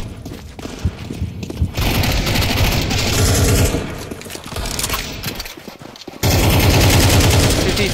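Gunfire in Counter Strike 2 on the Dust 2 map: loud, dense bursts of rapid automatic shots, broken by short pauses, with a fresh sustained burst near the end.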